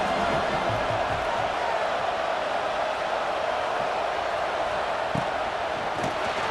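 Stadium crowd in EA Sports College Football 26 roars continuously as a steady, dense wash of cheering from a packed home crowd, loud throughout with a couple of brief thumps near the end.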